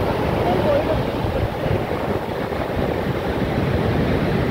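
Sea waves wash up toward the rocks on Devbagh beach at sunset, a steady, close roar of surf mixed with gusty wind rumble on the microphone.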